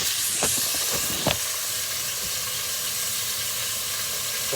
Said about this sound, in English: otherwise you're just listening to chicken sizzle for 2 minutes